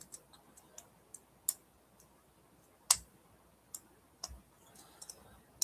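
Sparse, sharp metallic clicks and ticks at an irregular pace, close and fairly quiet, with a few louder snaps, as a pick works inside a weathered Master 141 padlock.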